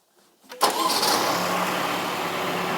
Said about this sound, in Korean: 자, 시동 걸어 주세요.